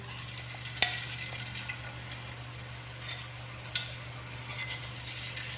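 Peanut crackers (peyek) made with glutinous rice flour batter fry in hot oil, giving a steady, even sizzle with a faint low hum beneath and a couple of sharp clicks of a utensil.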